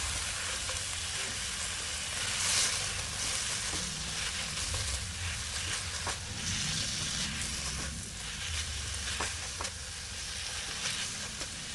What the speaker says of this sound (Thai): แล้วก็ผัดต่อค่ะ ขั้นตอนนี้เราจะผัดไปเรื่อยๆนะคะ จนกว่าใบยี่หร่าจะสลดลงไปค่ะ